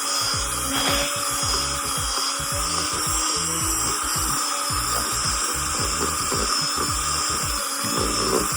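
An electric mixer churns cement paper mache clay in a bucket with a continuous motor whine and a rapid, regular grinding rhythm that runs throughout at steady loudness.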